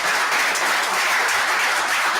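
A church congregation applauds, dense sustained clapping from many hands filling the room evenly for a couple of seconds with no voices on top.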